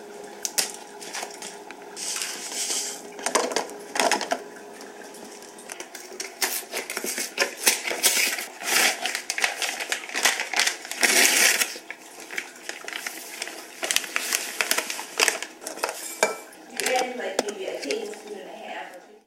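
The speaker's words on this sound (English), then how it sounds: "I finished mixing the cake mix, oats, and the butter" Cake mix, oats and butter worked together in a bowl by hand, giving a steady run of close crunchy scraping and clicking strokes that keep going for the whole stretch without pause.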